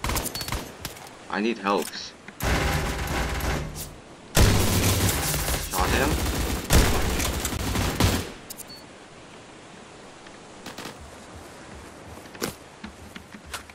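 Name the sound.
gunfire in the video game Surviv.io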